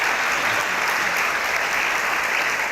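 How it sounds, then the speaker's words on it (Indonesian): A television studio audience breaks into loud, dense, continuous applause that holds steady from start to finish. "Tepuk tangan nih"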